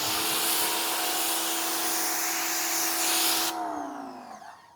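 Clean by Pan V2 spray sealant hisses steadily and loudly, close up, as it is sprayed onto a wet car body with a ceramic coating, then cuts off near the end.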